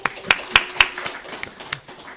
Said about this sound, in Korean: 오늘 이 시간 좀 큰 박수 한번 부탁드리겠습니다